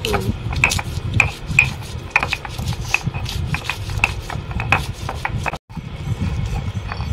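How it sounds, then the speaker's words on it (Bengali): Poppy seeds and green chilies are ground into a paste with quick, rhythmic rubbing and scraping strokes close by, a steady gritty back-and-forth broken by a brief pause. "তার সঙ্গে যে লঙ্কাগুলো লঙ্কা আছে, লঙ্কা দিয়ে বেটে দেবো একবারে।"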